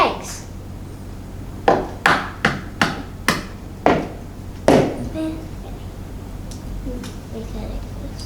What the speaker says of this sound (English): The first step is to crack the eggs.